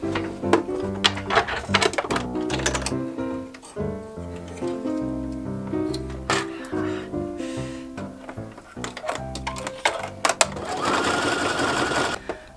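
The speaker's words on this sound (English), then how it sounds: "I'm just going to do the zigzag stitch just like they have already." A sewing machine runs a zigzag stitch along a garment, its needle chattering in rapid rhythmic bursts close by, with short pauses and one longer final run.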